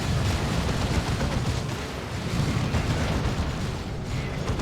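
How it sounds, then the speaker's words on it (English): Lascannon fire slamming into a Dreadnought in the battle game Warhammer 40,000: Dawn of War 2, heard as a dense, continuous roar of booming impacts and explosions, loud and steady throughout with no voices. "Dreadnought is here, taking las cannon shots"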